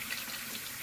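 Tap water runs steadily through a Rheem RTEX-18 tankless electric water heater, the faucet about halfway open, giving a continuous close hiss of flowing water with no voices.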